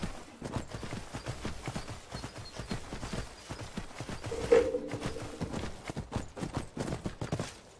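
Horse hooves clip-clop in a steady walking rhythm in Skyrim, fairly quiet and continuous throughout, with a brief tonal game sound partway through.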